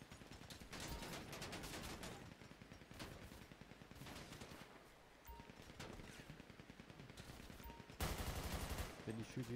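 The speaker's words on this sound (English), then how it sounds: "Yeah, he shot me." Rapid bursts of gunfire in a roleplay video game, dense repeated shots running through the whole stretch and growing heavier near the end, with no talk over them.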